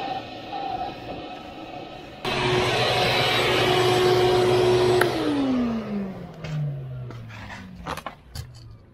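Shop vac switching on and roaring steadily as it sucks a pull string through electrical conduit for a solar PV array, then winding down with a falling whine, followed by scattered light knocks.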